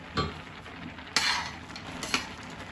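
Carrot halwa is stirred in a pan, giving a few soft scraping strokes and light clinks of a spoon against the metal over a quiet background.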